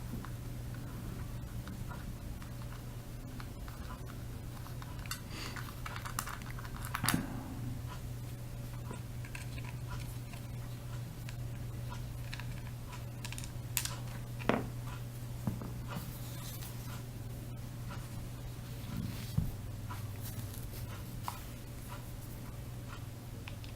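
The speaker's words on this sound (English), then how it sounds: "So we'll go ahead and take off our mounting screws here." A few faint, sharp metallic clicks and ticks come from mounting screws being worked loose on a Ruger 22/45 Mark III Tactical pistol. The isolated taps are spaced seconds apart over a steady low electrical hum, with no talking.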